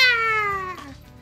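A cat gives a single clear, drawn-out meow that slides downward in pitch and fades at the end, close and loud with no talk over it.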